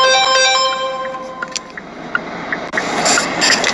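A mobile phone ringtone plays a bright, tonal melody for about a second and a half, then fades under rustling, hissing handling noise.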